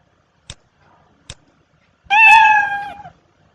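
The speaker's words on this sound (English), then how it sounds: "By default is the meow, this cat sound." A cat meow from Scratch's default sound library plays once, a clear, tonal, falling meow near and alone, preceded by two faint clicks.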